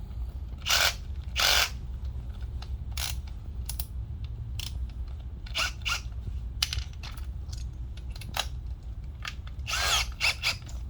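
Short bursts of a power drill whirring on and off while fitting golf tires to an Afikim Afiscooter, several quick pulses over a steady low background hum, fairly close.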